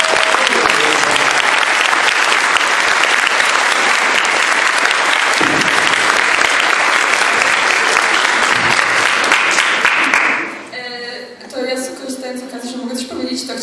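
Classmates in a school class give loud, sustained applause to the director of their class play, dense clapping that continues for about ten seconds before dying away into murmuring voices.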